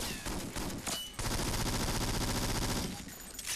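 Gunfire in the video game James Bond 007: Nightfire, a rapid burst of automatic shots that starts with a few scattered cracks and then becomes a dense, continuous rattle lasting a couple of seconds.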